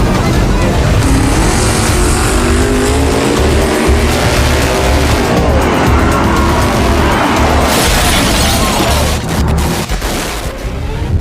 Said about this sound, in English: The starting light turns green and the Camaro lurches forward.